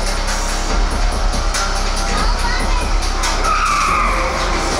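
A car in the Need For Speed Unbound racing game skids under hard braking at high speed, tires squealing over a loud engine roar, with people talking over the gameplay.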